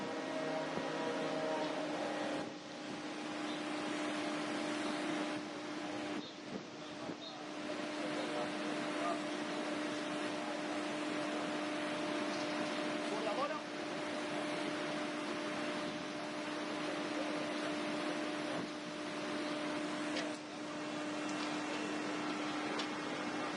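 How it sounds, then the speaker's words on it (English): Steady mechanical whine from a shipboard crane hoisting a landing craft (LCM) aboard a ship, a constant tonal drone under broadband machinery and wind noise throughout. "The noise you hear in the background is the crane itself."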